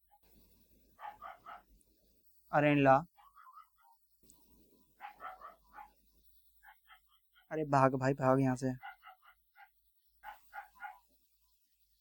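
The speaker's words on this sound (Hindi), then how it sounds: "कुत्ते पागल हो गए भाई।" Dogs bark at night in two loud, close bursts of rapid barking, separated by quieter stretches in which someone speaks.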